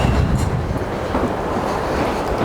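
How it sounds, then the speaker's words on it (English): A London Underground train rumbles into Chalk Farm station, a loud, steady roar with faint clattering, heard from the stairway down to the platforms, with no talk. "it's another delightful push of air from the trains"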